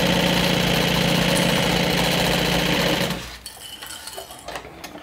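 Regular home sewing machine stitching slowly through the layers of a lined makeup bag, with a loud steady motor whir and rapid needle chatter for about three seconds before it stops, leaving faint handling clicks.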